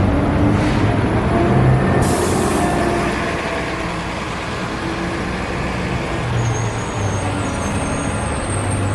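Van Ness BRT bus in San Francisco at a stop, a loud air-brake hiss near the start over steady engine idle and road rumble, then the engine carries on at a lower level with no talk.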